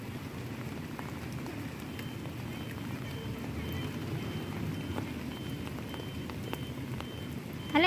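Heavy rain pours outside during a flood, a steady broadband hiss of falling water and drops on surfaces, continuous and fairly close, with a voice speaking faintly beneath it.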